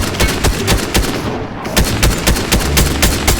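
Gunfire from a gun turret in the video game Fortnite: dense, loud, rapid shots that keep going almost without a break through the whole stretch, with no voices over them.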